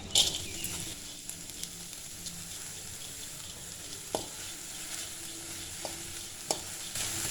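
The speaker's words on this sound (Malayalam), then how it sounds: "അത് ചൂടാകുമ്പോൾ നമ്മൾ കഴുകി വെച്ചിരിക്കുന്ന ചെമ്മീൻ ഇട്ട് കൊടുക്കാം" Washed dried shrimp sizzle steadily in a hot pan, with occasional light clinks and stirring sounds.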